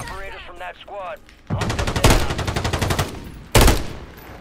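Rapid automatic fire from a Holger 26 in Call of Duty Warzone, a dense loud burst of closely spaced shots followed by a brief pause and another sharp burst, with a voice speaking just before.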